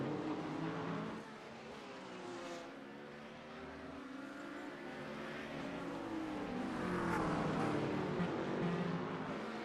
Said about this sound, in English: GT3s are lighting it up as they're going around the fountain.